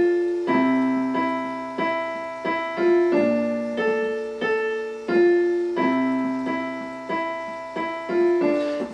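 A solo piano plays the repeating single-note opening melody of a song at a moderate pace, each note ringing clearly and overlapping the next.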